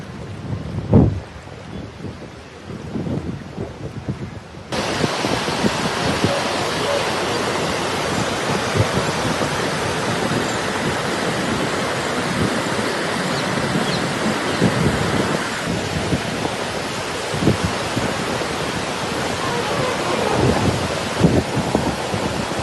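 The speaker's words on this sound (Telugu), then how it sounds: "విపరీతంగా పడుతున్నటువంటి కుండపోత వర్షానికి" Torrential rain pours down in Hyderabad in a dense, steady roar, with low thunder rumbles rolling beneath it; the downpour jumps abruptly louder after the first few seconds and stays heavy.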